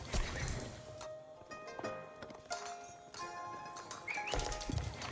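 Horse archers gallop in the real-time strategy game Age of Empires 4, a soft, steady clip-clop of hooves mixed with faint battle clatter and scattered impacts, fairly quiet throughout.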